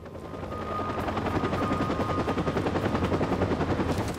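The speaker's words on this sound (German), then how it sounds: "Was ist jetzt mit diesen Helikoptern?" Helicopter rotors in the video game Watch Dogs, a loud, steady rhythmic chop that runs throughout, with gunfire-like bursts and a faint engine whine mixed in.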